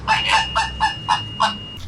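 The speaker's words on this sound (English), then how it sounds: "Flamingo." A flamingo calls in a series of about six nasal, honking cries at an even pace, fairly close and loud, with no talking.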